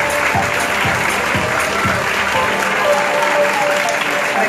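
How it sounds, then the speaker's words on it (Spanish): A festival crowd at the closing awards of the Cosquín international film festival gives strong, sustained applause, a loud continuous roar of clapping filling the hall, with faint voices and a low rhythmic thump beneath it. "Fuerte el aplauso."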